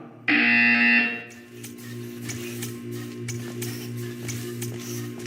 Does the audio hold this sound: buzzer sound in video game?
yes